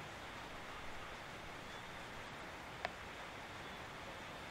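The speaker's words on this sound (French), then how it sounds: "La pluie est revenue après 2 semaines" Rain returning after a two-week dry spell during the rainy season, a soft, even hiss of steady rainfall heard from a distance, with one brief tap near the end and no voices.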